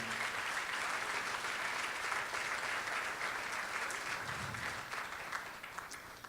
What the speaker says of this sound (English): Let's give them a round of applause for all the great work that they're doing.